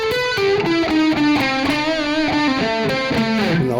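Distorted electric guitar plays a blues scale solo lick, high on the neck, with quick descending notes, pull-offs and held bends, loud and close with no voice.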